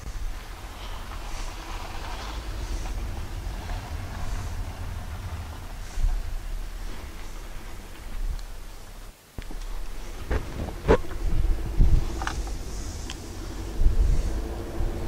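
A 2016 Honda Civic, just fitted with new rear brakes and an electronic parking brake, gives a steady low interior road rumble and engine drone on a test drive, with a brief dip and a few knocks and bumps partway through.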